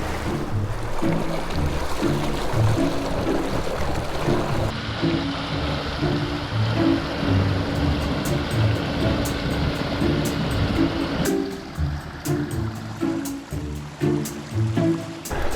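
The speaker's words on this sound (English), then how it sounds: "there's no increase in noise apart from the noise of the water." Continuous rushing and swishing of water along the hull of a boat under an ePropulsion Spirit 1.0 Evo electric outboard, steady and fairly close, with a low background rumble, no engine noise and no voices.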